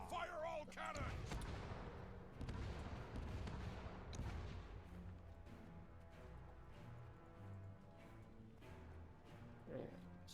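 Heavy cannon fire in a Guild Wars 2 PvP battle, booming blasts and crashing impacts loudest at first then continuing more faintly amid game sounds and speech.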